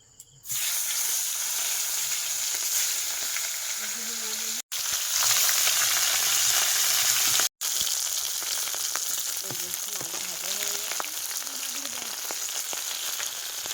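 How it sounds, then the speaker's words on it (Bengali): Fish frying in a pan in a home kitchen: a steady, loud sizzle runs almost continuously, broken by two brief cutoffs, with faint clinks of utensils. "এই যে মাছ ভাজা হয়ে গেছে, মাছ তুলে নিচ্ছি এবার।"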